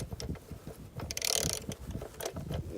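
A socket wrench ratcheting during a car oil change, a series of close, rapid clicking bursts with brief pauses between strokes, louder in the middle, and no talking.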